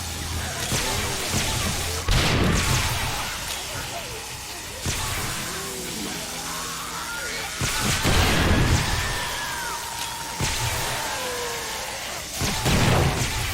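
Explosives detonate among zombies in the survival game 7 Days to Die, several heavy booms and crashes spaced seconds apart, with whooshing debris and game ambience in between, while someone talks over the action.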